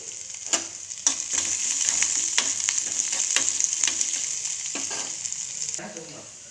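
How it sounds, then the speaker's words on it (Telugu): Ginger pieces and garlic frying in a pan, giving a loud, steady close-up sizzle broken by a few sharp spatula scrapes and knocks against the metal. "మళ్ళీ అల్లం ముక్కలు వేసుకొని వేయించుకోవాలి అందులోకే తెల్లగడ్డలు వేసి వేయించాలి"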